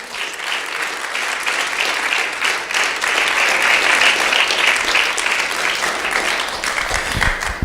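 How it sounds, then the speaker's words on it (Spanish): A congregation applauds Jesus Christ during a Spanish-language church sermon: steady, loud, dense clapping that fills the space without pause, with no talking over it. "Ponle un aplauso al Señor Jesucristo, fuerte."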